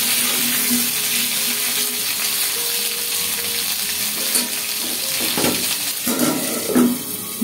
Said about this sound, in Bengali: ঢেকে দিলাম, ভালোভাবে ভাজা ভাজা হোক।